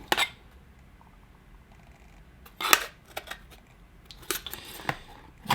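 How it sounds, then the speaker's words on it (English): Parts being screwed back onto a clipboard, heard as sparse, sharp clicks and metallic snaps: a few close taps spread over several seconds against a quiet background. "I'm just gonna screw this back on here."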